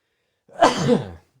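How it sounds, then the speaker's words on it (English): A single sneeze, loud and close, with a sharp breathy burst that trails off after about half a second. "I'm gonna sneeze there."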